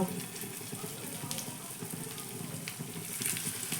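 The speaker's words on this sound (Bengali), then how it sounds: "তারপরে একে একে বানিয়ে রাখা স্ন্যাক্সগুলো তেলের মধ্যে দিয়ে দেব" Bread and potato snacks dropped into hot oil over a medium gas flame fry with a steady, dense crackling hiss that holds evenly throughout and rises slightly near the end.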